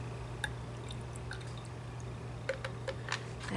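Liquid poured back into a container while making an altered, riveted tin pendant, heard as faint scattered drips and small splashes over a steady low hum, quiet and close with no talk.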